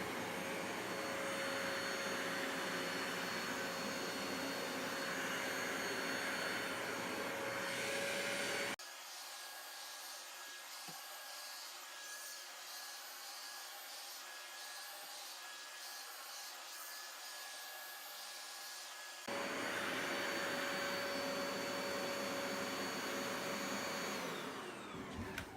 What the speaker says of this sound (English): Okay, vacuum run, looking pretty good so far.